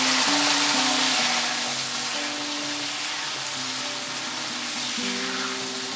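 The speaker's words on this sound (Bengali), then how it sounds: "দিয়ে ভালো করে ভেজে নেব।" Bitter gourd pieces fry in hot oil for shukto, giving a loud, dense, continuous sizzle close by that softens slightly after the first second. No one talks over it.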